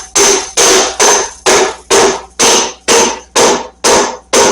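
Steady hammer taps driving a Harley-Davidson Road King front fork tube into place, nine sharp, evenly spaced metallic blows about half a second apart, loud and close with no talk.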